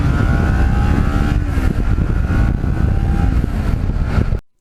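Kawasaki Ninja twin-cylinder motorcycle engine held at high RPM while riding, a loud continuous buzzing drone with steady exhaust harmonics, cutting off abruptly at the end.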